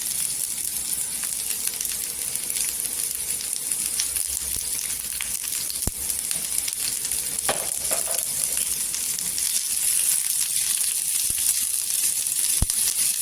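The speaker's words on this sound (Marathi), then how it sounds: "एक चमचा तेल टाकलेला आहे तव्यात त्याच्यावर दोन कांदे टाकलेले आहेत" Two chopped onions sizzle in a spoonful of hot oil on a tawa, a steady moderate frying hiss with occasional sharp pops and crackles, close by and with no voices.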